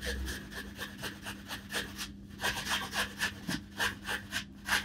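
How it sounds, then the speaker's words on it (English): An apple is rasped against a grater in quick, regular back-and-forth strokes, a dozen or so dry scraping pulses, close and fairly quiet. "I'm just going to grate an apple in."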